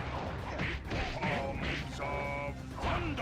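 Fiery wheel attack impacts in an action RPG video game: a string of heavy crashing hits with whooshing bursts and ringing tones, loud and spaced about half a second apart, with no talk over them.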